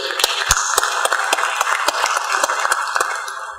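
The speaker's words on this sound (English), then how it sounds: "Please give another round of applause" At an international science academies forum in Tanzania, attendees clap for the president of the Tanzania Academy of Science, with sharp, separate claps from a modest crowd in a steady, somewhat sparse patter.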